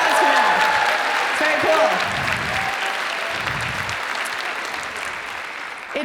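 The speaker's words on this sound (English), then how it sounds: "Let's have a round of applause for that." Audience applause fills a theatre on a Hadestown performance night with student groups in the house, a dense, steady wash of clapping lasting the whole stretch at even loudness, with a few voices and cheers mixed in.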